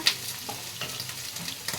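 Chicken pieces for chili chicken frying in oil and being turned in a pan, a continuous close sizzle with light scraping stirs and a brief metallic tick.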